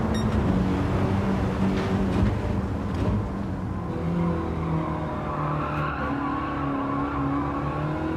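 A race car in Gran Turismo 7 runs off track through gravel and grass, giving a sustained loud engine drone with skidding, rumbling tire noise over the full stretch.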